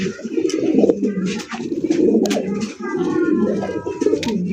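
Pigeons at a farm coo in overlapping, throaty bursts, several birds close by, with soft chirps and rustles between the calls.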